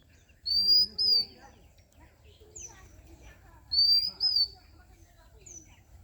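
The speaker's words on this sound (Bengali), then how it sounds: "সেই দোয়েল পাখির ন্যাচারাল ডাক" An oriental magpie-robin sings two separate phrases of clear, whistled notes, each a short burst of sweet song, with faint background murmur between.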